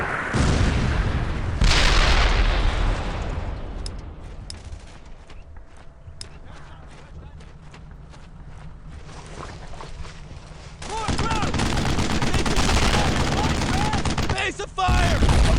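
Gunfire and explosions in the World War II shooter Brothers in Arms: Earned in Blood, with loud bursts and sharp shots up front, a quieter stretch of scattered cracks, then a dense roaring barrage, with soldiers shouting throughout.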